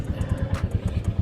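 A Royal Enfield Classic 350 motorcycle engine throbs close by in a quick, even thumping pulse, a short burst of revving with a slight clatter on top.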